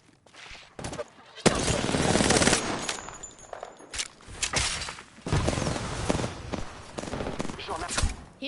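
Rapid automatic gunfire bursts and scattered shots crackle in a firefight in the video game Apex Legends, loud and repeated in clusters with brief pauses between volleys.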